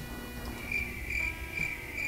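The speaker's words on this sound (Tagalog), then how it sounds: "Maraming kuliglig ako narinig" Crickets chirp beside a rainy roadside in repeated high, shrill pulses, moderately faint and steady against a low background hum.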